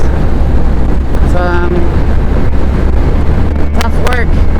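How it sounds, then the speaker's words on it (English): Strong wind buffets the microphone with a steady, heavy rumble throughout while riding a bike near Marsa Matruh, Egypt, and a few brief tonal squeaks rise over it. "Super windy out here, you guys."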